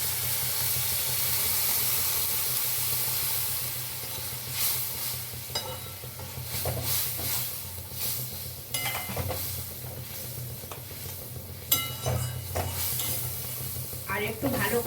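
Shrimp curry gravy simmers and bubbles in a pan after hot water is added, giving a steady close hiss with scattered pops and stirring scrapes and no talking.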